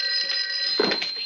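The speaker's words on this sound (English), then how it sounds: "Make sure the phone's working." A telephone rings with a bright, steady electronic trill that runs throughout, with a brief duller knock partway through.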